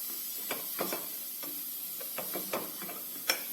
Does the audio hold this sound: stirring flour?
yes